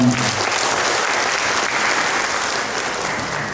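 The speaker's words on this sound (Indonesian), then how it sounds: "tepuk tangan untuk kita semua" Audience at a health seminar in Lamongan applauding, loud dense clapping from a large crowd sustained throughout, with a brief voice at the very start.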